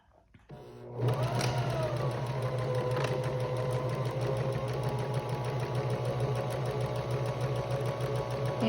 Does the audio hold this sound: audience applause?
no